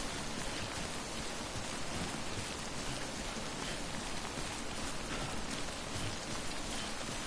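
Steady, dense rain hiss from the timefall in the Death Stranding video game, an unbroken wash of falling drops with no pauses and no voices.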